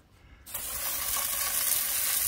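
Garden hose spraying water up underneath a riding lawn mower during washing, a steady close hissing rush that starts abruptly after a short quiet moment and continues without a break.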